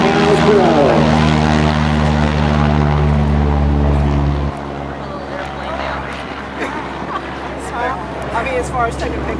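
A T-6 Texan propeller airplane on its takeoff run at an air base airshow, a loud, buzzing roar from propeller tips going supersonic. The roar is strongest for the first half, then drops back as the plane pulls away, with crowd noise and voices behind it.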